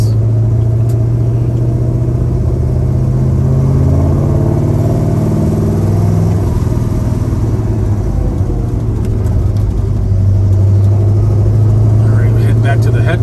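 A 1967 Pontiac GTO engine rumbles steadily at close range with a deep low drone while driving, rising and easing slightly as the car moves.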